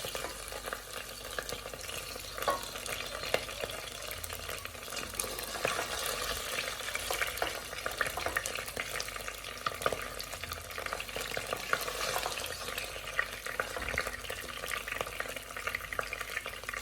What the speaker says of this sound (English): So this beef has some good browning.